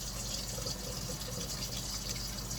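Steady running tap water at a sink for hand washing, a continuous even rush with no pauses, close by and moderately loud throughout.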